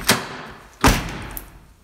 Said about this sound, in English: Rust just fell off the truck when I shut the door.